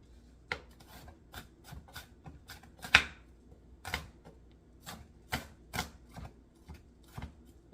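An onion being chopped on a board, about a dozen sharp knife strikes spaced irregularly, close but fairly quiet, with no talking.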